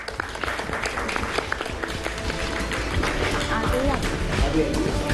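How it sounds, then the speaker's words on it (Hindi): Applause from an audience at a vigilance awareness quiz show greets the winning team, a continuous clatter of clapping with speech-like sounds mixed in. "जोरदार तालियां हो जाए।"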